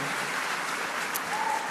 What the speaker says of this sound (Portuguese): aplaudindo a Jesus, porque Ele é bom